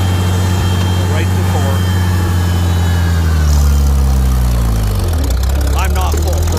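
A Farmall 756 tractor's diesel engine runs below full throttle with a loud, steady low rumble whose pitch shifts partway through as engine speed changes, with faint background voices.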